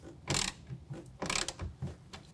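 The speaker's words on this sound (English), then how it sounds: "Then we're going to take a 1/2 inch wrench or ratchet and go ahead and tighten that down." A hand ratchet tightening a tonneau cover rail clamp on a 2022 Toyota Tundra, giving a few close bursts of quick clicking with short pauses between strokes.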